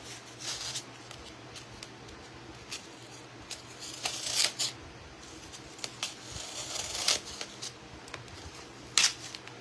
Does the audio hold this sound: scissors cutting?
yes